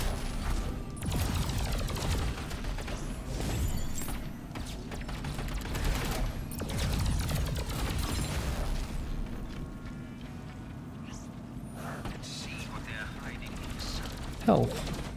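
Turrets firing in the twin-stick shooter Alienation, with rapid bursts of gunfire, pops and explosions rattling on and off over several seconds while someone talks over the action.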